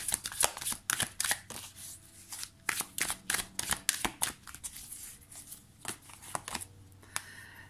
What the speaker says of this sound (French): On va prendre deux cartes, les deux principaux blocages.